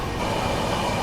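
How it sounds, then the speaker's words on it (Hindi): A Vande Bharat Express train passing at a crossing, a loud, dense rumble of wheels and rushing air, close and continuous throughout with no voices. "आप लोगों को दोस्तों क्रॉसिंग दिखाते हैं गांधीनगर कैपिटल से चलकर मुंबई सेंट्रल की ओर जाने वाली वंदे भारत एक्सप्रेस की"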